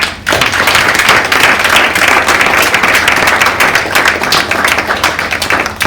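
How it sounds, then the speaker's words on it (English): Loud, dense applause from a conference audience at a Handloom Day event, honoring students dressed in handloom; continuous clapping fills the whole stretch without speech. "I think they need a bigger applause."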